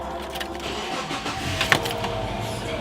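An old car's engine cranks and catches after the shifter is moved into first gear, with a short mechanical burst partway through over a low idle rumble and no talking.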